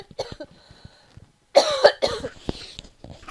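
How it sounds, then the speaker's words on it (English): Two loud, harsh coughs close to the mic, preceded and followed by quieter rustling and breathy noises. "I'm gonna cough, sorry, hang on."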